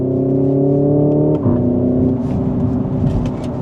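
A 2025 Hyundai Ioniq 5 N electric car launches hard off the line on an open road: a loud, steady layered whine shifts abruptly into a rougher, surging roar that continues to the end, with no talking.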